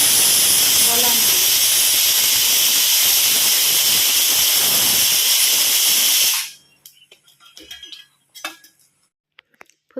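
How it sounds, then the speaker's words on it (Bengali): Fuchka (puri) shells deep-frying in hot oil, a loud steady broadband sizzle filling the first six seconds, then cutting off to near silence broken by faint clinks and small handling noises. "ফুচকাগুলো এদিকে ভাজছি"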